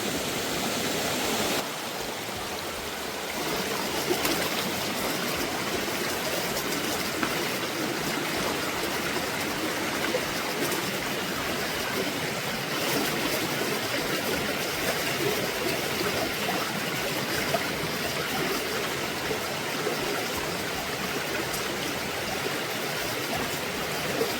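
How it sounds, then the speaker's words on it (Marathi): A village river running over rocks, a steady broadband rush of flowing water, continuous and fairly close, with no voices. "या नदीला भरपूर पाणी असतं"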